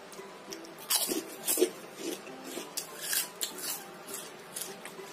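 Crisp, crunchy bites into homemade krupuk crackers, close up, with several sharp crunches and chewing bursts spaced irregularly over a few seconds, no talking.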